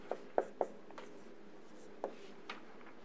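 Chalk or marker tapping and scratching on a board during a general relativity lecture: a few short, soft strokes and taps, with a pause between clusters, in a quiet room.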